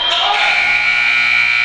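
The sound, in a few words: basketball game buzzer at end of quarter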